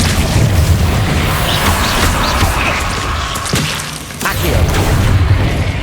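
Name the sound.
Incendio fire spell from video game Hogwarts Legacy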